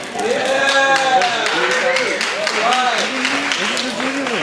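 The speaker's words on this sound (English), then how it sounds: "the loudest cheer between these two gentlemen gets to stay" A crowd cheers, whoops and applauds loudly and steadily for the startup YakTrack at an investor pitch event, a dense roar of voices and clapping that fills the whole stretch.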